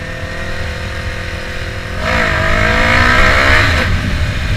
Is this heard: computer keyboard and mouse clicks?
no